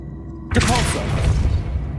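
A Depulso spell fires in the video game Hogwarts Legacy: a sudden loud booming blast after a quiet start, trailing into a rumbling, crackling tail.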